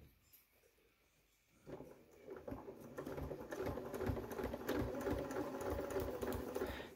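A sewing machine stitches a laptop case, starting after a quiet moment and running as a quick, steady mechanical patter that grows louder and stays close, with no talk.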